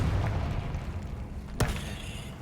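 A Confringo fire spell in the video game Hogwarts Legacy lands as one sharp, bright blast partway through, rising above a steady rumble of game noise.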